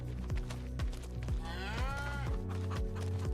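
Cows in the farming game Farming Simulator 25 let out a long, loud moo over a background of repeated low rhythmic thumps, with no talking.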